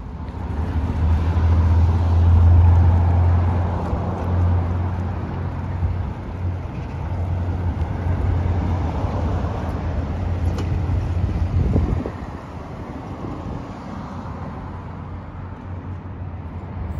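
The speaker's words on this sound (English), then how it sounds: "enjoyed being out and driving the Mustang around" Ford Mustang fitted with high-flow catalytic converters driving around town, a steady loud low engine drone with road and wind noise, easing slightly after a brief shift partway through.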